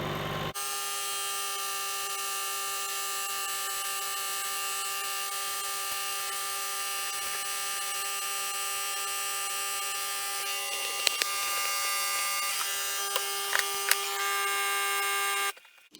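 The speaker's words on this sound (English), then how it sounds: "There's a button here that says vacuum and seal." A vacuum sealer runs with a steady, loud electric buzz and whine for about fifteen seconds, with a few brief clicks near the end before it cuts off abruptly.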